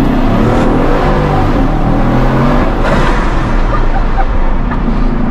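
Bugatti Chiron with a 1,500-horsepower engine accelerating hard, a loud, continuous roar that stays steady throughout with no break.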